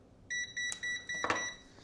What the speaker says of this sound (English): multimeter's beeping at us